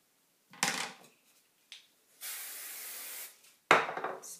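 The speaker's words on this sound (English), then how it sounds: "Spray." Hairspray is misted onto hair during a voluminous styling, heard as a steady hissing burst of about a second, bracketed by close rustling and handling noises.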